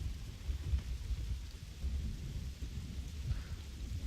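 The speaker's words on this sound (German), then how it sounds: "Und regnet." Steady rain and low rumbling thunder from a storm in the online role-playing game Black Desert Online, a faint continuous wash of weather with no voices.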